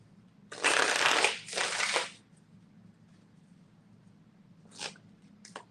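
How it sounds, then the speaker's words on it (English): Tarot cards being shuffled close by: two quick riffling bursts back to back, then quiet, followed by two shorter faint shuffles near the end. "Why are you not wanting to shuffle?"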